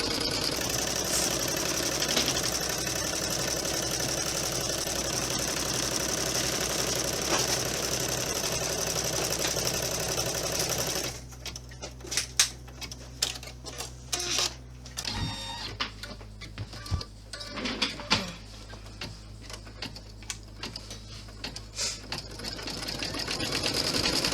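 Embroidery machine stitching down a layer on a wallet project, a steady fast mechanical whirring that shifts into choppier stitching with irregular clicks and thumps, close and continuous with a low motor hum underneath.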